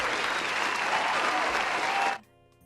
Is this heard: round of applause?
yes